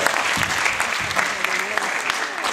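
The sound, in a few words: audience clapping along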